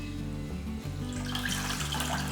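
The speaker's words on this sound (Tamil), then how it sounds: "இப்போ வந்து நான் 1 லிட்டர் அளவுக்கு தண்ணி ஊற்ற போகிறேன்" Water runs steadily into a cooking pot as about a litre is poured in for South Indian rasam, a continuous close splashing stream with no talk over it.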